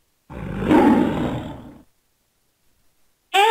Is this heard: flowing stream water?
no